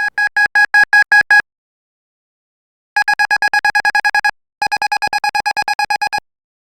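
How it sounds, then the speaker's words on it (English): A synthesized telephone- or alarm-style tone made with square-wave LFO modulation of pitch and volume, loud and close, pulsing in three rapid bursts of beeps separated by brief silences. "setting a square wave in the LFO will create that telephone or alarm style tone."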